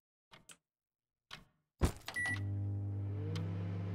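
In a horror game set in a haunted gas station and convenience store, a few soft clicks precede a sharp clunk as a videotape player starts on its own, settling into a steady mechanical whir and low hum.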